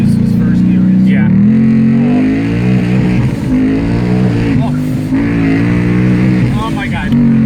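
A 2017 Ford Mustang GT with 305 tires launches hard in first gear, its V8 roaring loud and close as the tires spin, while excited voices talk over the engine.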